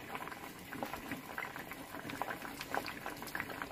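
Lentils and green beans simmering in a pot for bassaru, a busy bubbling and popping patter at moderate volume, steady throughout with no voices.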